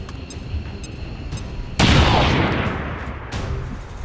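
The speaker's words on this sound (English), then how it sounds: "Use our grenade" A grenade in a video game bursts with a sudden loud broadband blast that decays over about a second, followed by a fainter later crack amid low game noise and scattered clicks.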